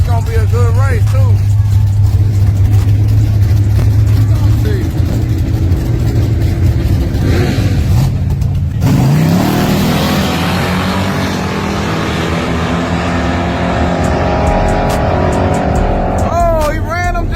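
Drag racing cars roar loudly off the line and accelerate hard, engines rising in pitch before fading into a sustained high drone. Voices talk and shout over the engines.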